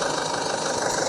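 A tractor engine in the video game Indian Bike Driving 3D idles with a steady, buzzy, tinny rattle, loud and continuous for about a second.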